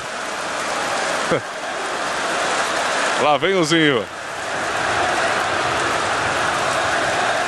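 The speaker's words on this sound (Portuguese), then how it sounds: "Que chuva, digo eu" Heavy rain falls steadily across a football stadium during a 1998 Brazilian league match, Palmeiras against Corinthians, a constant broadband hiss with a short burst of commentary speech near the middle.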